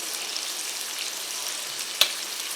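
Chicken liver and heart fry on a tawa over a lowered flame, a soft, even sizzling hiss with one sharp click near the end, and no voices.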